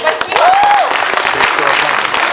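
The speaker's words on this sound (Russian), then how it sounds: "Ваши аплодисменты" A KVN comedy show crowd applauds a team's performance with sustained clapping, loud and close, while a voice speaks briefly over the start and scattered cheering mixes in.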